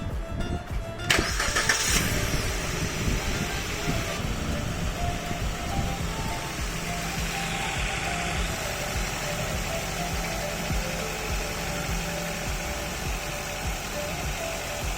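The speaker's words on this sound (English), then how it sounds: "Start the engine." A Suzuki Baleno engine cranks briefly and catches, then settles into a steady, even idle that continues close by for the rest of the clip.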